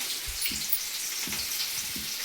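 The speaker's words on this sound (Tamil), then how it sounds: "இப்போ பாருங்க வெங்காயம் போட்டுக்கணும்" Onions dropped into hot oil crackle and sizzle in a close, continuous frying patter with a few soft low thumps.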